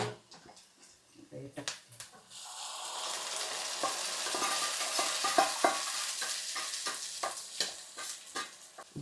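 Onion fries with curry leaves in a pan for a village-style mutton meal, a steady sizzle swelling after a few utensil clicks, with occasional scraping stirs and a voice talking over it.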